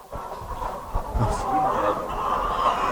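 A rooster clucks and calls nearby over a steady background murmur, with scattered low knocks and some faint voices in the distance.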